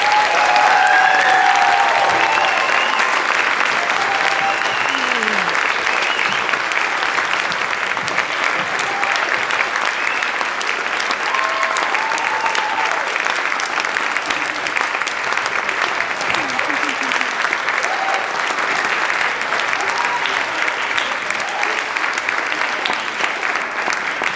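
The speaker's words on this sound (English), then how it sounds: "please, let's give all these students a round of applause." A school auditorium audience at a middle school spring concert claps for the student performers in long, sustained applause, dense and even throughout, with faint voices and whoops mixed into the crowd.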